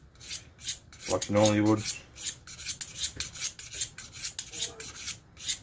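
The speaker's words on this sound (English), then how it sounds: "I just use a knife steel, and I've always sharpened knives on knife steel" Steel rasps against a single-bevel broadhead in a string of short, rhythmic strokes, each a bright scraping swipe, with one longer grinding pass early on and someone speaking briefly.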